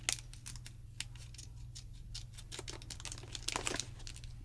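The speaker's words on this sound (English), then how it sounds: "I need to cut down here." Scissors cut open a snack package up close, sharp snips and crinkling plastic coming in a quick, irregular series over a faint low hum.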